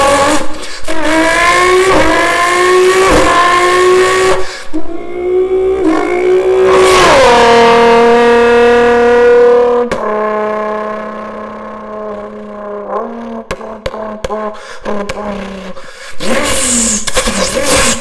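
A person imitates a Nissan GT-R's rolling anti-lag using a paper towel, producing loud rising engine-like revs with rapid crackling pops and sputters, then a sustained drone and a burst of sharp bursts near the end.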